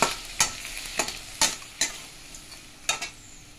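Crab frying in hot oil with mustard seeds, dried red chilies and panch phoron: a steady close sizzle broken by about seven sharp scraping stirs of the spatula, with no voices.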